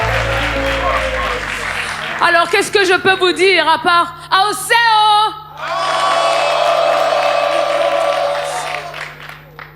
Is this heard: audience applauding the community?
yes